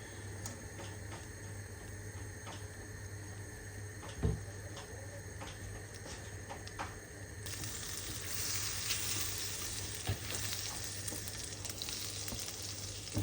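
Butter sizzles steadily in a pan as homemade croutons are stirred through it, a constant frying hiss with occasional scrapes and ticks, growing a little brighter and louder toward the end, with no talk.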